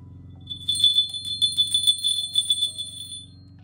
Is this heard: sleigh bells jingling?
yes